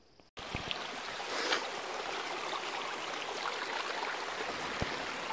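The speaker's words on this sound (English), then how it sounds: "Made it back to that creek again. Love mountain creeks." A mountain creek on Bear Peak in Colorado rushes in a steady, close, full wash of flowing water after a brief quiet start, with no voices.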